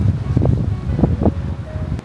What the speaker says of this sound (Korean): 오늘은 이렇게 바람이 불고 난리가 났는데